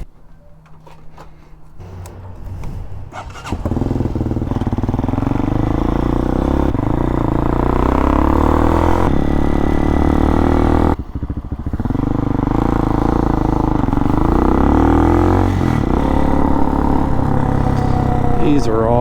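A Hawk DLX 250 motorcycle on off-road knobby tyres idles, then its engine revs up and drones steadily while riding, with brief throttle dips and rising pitch, loud and close throughout.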